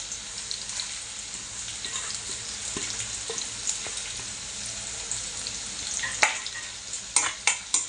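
Whole spices frying in a pan for a spicy Malvani-style chicken, a steady close sizzle with light stirring scrapes and a few sharper clicks near the end, no talking.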